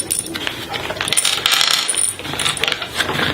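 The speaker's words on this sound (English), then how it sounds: "I take my token and put it on the start" A small plastic game token set down on a classroom skills board game, a cluster of light clicking taps and clatters close by with no voices.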